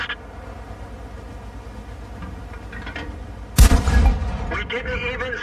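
A tank cannon fires in World of Tanks and the shot bounces off enemy armor: one sudden loud boom with a short ringing tail over a quiet ambient bed.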